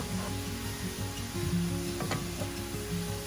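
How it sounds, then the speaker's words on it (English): Whole aniseed (saunf) frying in oil alongside partially cooked onions, a steady close sizzle and crackle that holds throughout with a few sharper pops near the middle, no talking. "we're going to add some saunf or the aniseed, whole aniseed into it, and that will also fry in the oil"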